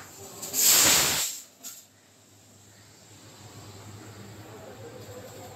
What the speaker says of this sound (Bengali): চিকচিক করে খালি সিটি দিয়ে যাচ্ছে।